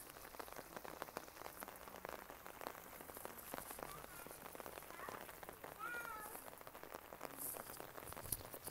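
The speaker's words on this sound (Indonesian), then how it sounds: "Hujan ya guys." Rain falling outside a villa in Bad Ischl, Austria: soft steady patter on surfaces, faint and close, with a few brief cat-like mewing calls partway through.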